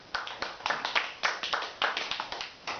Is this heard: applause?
yes